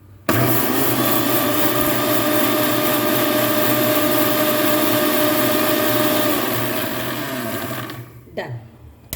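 An electric mixer grinder whirring loudly and steadily while grinding whole spices for Goan garam masala powder, running for several seconds before spinning down and stopping.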